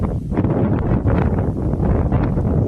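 Strong wind on a countryside walk, buffeting the microphone with a steady, loud, rushing roar that fills the whole stretch without letting up.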